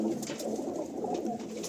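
Giribaj pigeons coo in a large loft in Kolkata, their low rolling calls overlapping close by. A few faint higher chirps break through now and then, and there is no talk.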